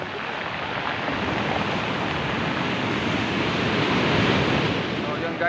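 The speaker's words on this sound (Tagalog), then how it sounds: "lakas ng alon, medyo delikado" Strong surf pounds Dinadiawan Beach, a dense, continuous wash of breaking waves mixed with wind buffeting the microphone, loud and close and swelling slightly toward the end.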